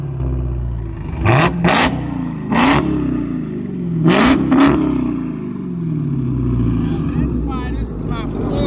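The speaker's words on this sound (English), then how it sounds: "I'm gonna rev this thing up one more gear" A supercharged Dodge Challenger Hellcat engine is revved close by, its loud roar climbing and falling in several sharp blips over a steady rumbling idle.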